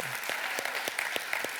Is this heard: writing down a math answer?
no